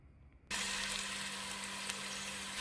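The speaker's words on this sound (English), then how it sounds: "Fry all your ingredients." Curry ingredients for a Mauritian venison curry hit hot oil with a sudden loud sizzle after a quiet moment, then a steady, dense frying hiss continues close by with no talk.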